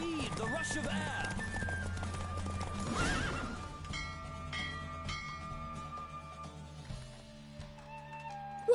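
Horse race in The Witcher 3 Wild Hunt: loud neighing and galloping hoofbeats early on, then the gallop eases under background music.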